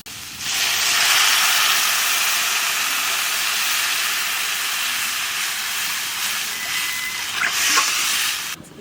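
Water poured into a hot pan of frying onions and chilies seasoned with salt and turmeric, for an eggplant curry with mustard paste and duck eggs, sets off a loud, steady hiss of steam and sizzle that lasts several seconds before cutting off.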